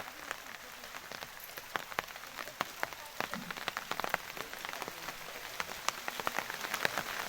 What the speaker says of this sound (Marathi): तो पाऊस आलेला आहे